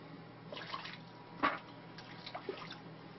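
Water splashes and drips faintly during a shave, in soft irregular bursts with one sharper slosh, heard close with no talking.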